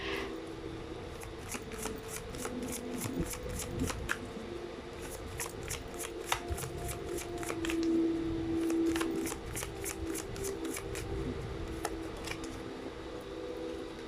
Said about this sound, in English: I'm just going to pull up more cards